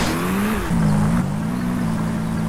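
Motorcycle engine in GTA San Andreas revving up and down in a steady mid-pitched drone, close and loud, with no talk over it.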